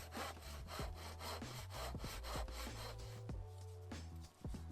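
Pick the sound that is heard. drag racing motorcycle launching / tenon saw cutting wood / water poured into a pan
tenon saw cutting wood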